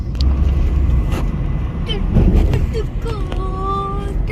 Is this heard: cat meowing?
no